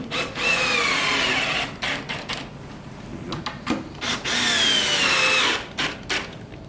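A power drill drives screws into a modern cabinet during assembly, running in two long, loud whirring bursts with short pauses and small clicks between them.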